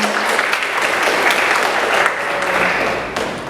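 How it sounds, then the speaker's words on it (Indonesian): Audience at a student talk show applauds in a steady, dense burst of clapping lasting a few seconds, fairly close and loud, with little talk over it. "Tepuk tangan lagi dong sekali lagi teman-teman."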